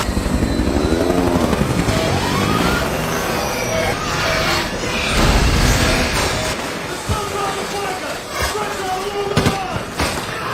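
A helicopter's rotor drone fills a scene from the 2002 war film We Were Soldiers, with voices shouting over it and sharp gunshot bursts cutting through the din.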